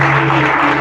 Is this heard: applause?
yes